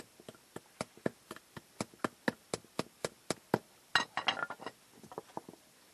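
A steady series of sharp metallic taps from a hammer on metal while replacing a car CV joint rings out at an even pace, followed by a quicker cluster of clinking strikes, close and clear.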